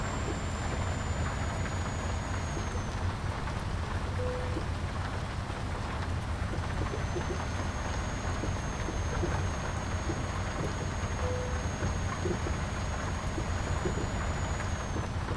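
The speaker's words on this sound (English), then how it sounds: "Yeah, it's raining" Steady, even rain falls continuously in a video game, a dense uniform hiss with no pauses, accompanied by a faint high tone.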